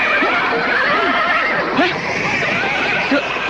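Horse neighing in a radio drama, whinnies rising over a dense continuous wash of battle or crowd noise that stays loud throughout.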